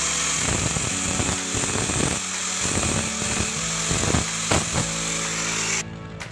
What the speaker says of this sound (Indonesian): menggunakan pemotong besi. Kita nyalakan mesinnya, kita nyalakan lalu kita potong.